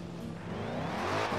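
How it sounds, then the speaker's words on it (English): A car engine revs loud and steady in a racing video game, a continuous droning whine that swells slightly toward the end with no talk over it. "I can hear the engine is really loud right now compared to if I try to do it on Xbox controller"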